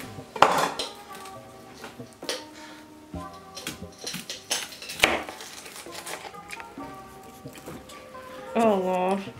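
A knife chopping an onion, with uneven taps and clatter of the blade and board under frequent talking and laughter.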